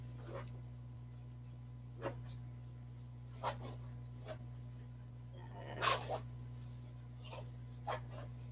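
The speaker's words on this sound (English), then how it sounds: "Lacey, what are you doing down there, you silly dog?" A dog gives several soft, short whimpers and yips at scattered moments over a steady low hum in a quiet indoor room, faint and fairly close.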